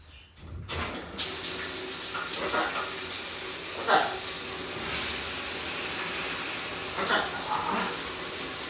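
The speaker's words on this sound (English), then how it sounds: "So, rule number 1, turn on the water." Water pours steadily from a tap after a brief quiet start, a constant splashing rush with a few small knocks and clinks.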